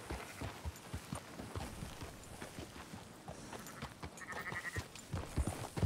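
Sheep bleating and horse hooves in the video game Red Dead Redemption 2, with steady clip-clopping hooves and soft footsteps throughout and a few bleats from a herd on the move, without talk.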